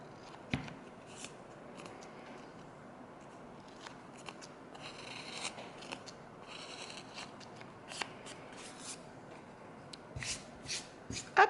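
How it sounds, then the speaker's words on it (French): A craft blade slides along a sheet of paper, cutting it while a small paper mini album is being made. The cut comes through as a soft, close, continuous scraping rustle with a few light taps and clicks. "Vous avez juste à faire glisser la lame le long de votre papier"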